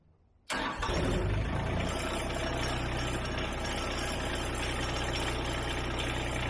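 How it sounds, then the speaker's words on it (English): An LS MT125 compact tractor's diesel engine starts abruptly after near silence, then settles into a steady, loud, close rumbling idle that continues without pause. "we're going to get the LS MT125 started up, warmed up"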